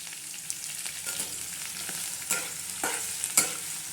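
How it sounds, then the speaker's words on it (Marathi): Curry leaves and garlic sizzle in hot oil for a tadka, a steady close crackle broken by a few sharper spits and stirring scrapes. "कढीपत्ता टाकलेला आहे लसूण टाकलेला आहे त्याच्या आपण असा हा चांगला तडका देऊन घ्यायचा"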